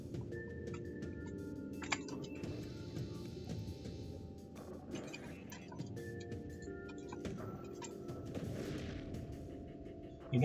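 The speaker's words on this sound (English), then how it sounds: "A salvo of theirs finally makes it onto the flagship engines." Spaceship weapons in the FTL Multiverse strategy game fire salvos at an enemy flagship's engines: electronic zaps and muffled blasts come in bursts over a steady synthetic game soundtrack, with no talking.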